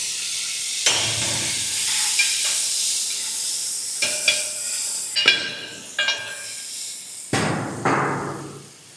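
Fresh coriander and mint dropped into a hot pan for chicken fry biryani, sending up several loud bursts of hissing sizzle that rise sharply, fade and return close by.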